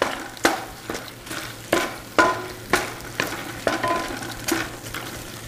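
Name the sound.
ginger sautéing in a pan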